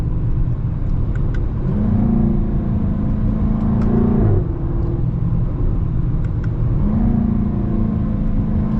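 A 2023 Jaguar F-Type P450 R-Dynamic in manual mode revs loudly inside the cabin, its engine rising in pitch and dropping again in two swells over a deep continuous rumble.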